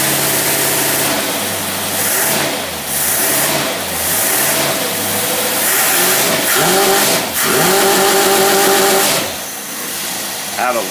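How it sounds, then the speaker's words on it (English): Engine fitted with a Carter WCFB carburetor revving hard on a dynamometer, loud and close, rising and falling through several sustained high-rpm pulls over a steady mechanical roar. "It really scares me revving that dynamometer up that high"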